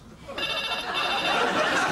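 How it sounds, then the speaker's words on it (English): A telephone bell rings in a comedy sketch setting, starting abruptly after a quiet moment and continuing as a bright, sustained trill through the rest of the clip. "Phone rang once"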